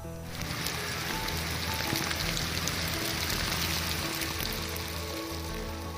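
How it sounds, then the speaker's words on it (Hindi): Torrential rain lashes down with strong wind in Rishikesh, a dense, steady roar of falling water and hissing spray that stays loud and unbroken throughout, with no speech. "ऋषिकेश में तेज हवा के साथ मूसलाधार बारिश हुई"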